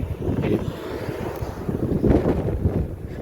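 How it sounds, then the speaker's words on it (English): Steady low rumbling wind buffeting the microphone, continuous throughout with gusty surges. "really windy here, hope that's not affecting it"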